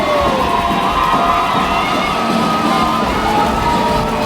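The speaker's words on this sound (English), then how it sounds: "The crowd tries to give them one last push here." A high school hockey crowd at an OFSAA game roars late in the third period, a dense, loud wall of cheering and shouting that holds steady without a break.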